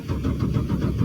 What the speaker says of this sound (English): We got the car started.